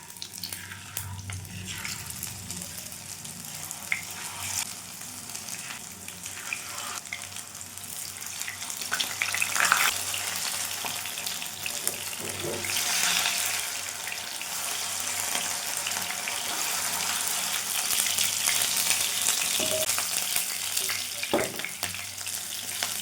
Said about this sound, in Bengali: চলুন মাছগুলো একে একে ভেজে তুলি